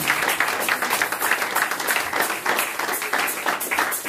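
A church congregation applauds steadily at a French-language worship service, the clapping dense, loud and continuous from a crowd filling the room.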